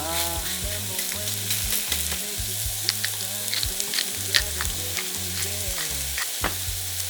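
Pork belly sizzles steadily on a hot grill at a campsite, crackling and popping throughout with a low humming drone underneath, close up and fairly loud.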